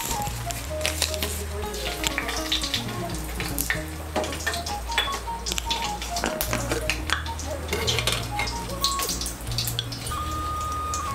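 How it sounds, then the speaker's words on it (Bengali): Bay leaf, two dried red chillies and five-spice seeds tempering in hot mustard oil, crackling and popping in a busy, irregular patter of sharp snaps over a low background hum, close and fairly steady for several seconds. "তেলটা গরম হলে এর মধ্যে আমি ফোড়ন দিয়ে দিচ্ছি।"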